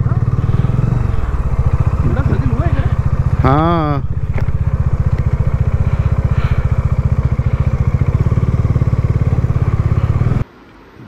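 A motorcycle engine idles loud and close at a bike transport depot, a steady throbbing rumble with a brief clatter of handling. A voice speaks briefly.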